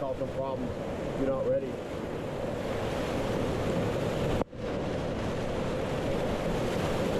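Whitewater rapid on Clear Creek, Colorado, heard from a kayak on the river: a loud, continuous rushing roar with wind buffeting the microphone and a brief dropout partway through.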